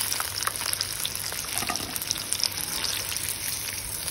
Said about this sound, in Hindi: इसको दोनों साइडों से अच्छे से फ्राई करेंगे और फिर निकाल लेंगे।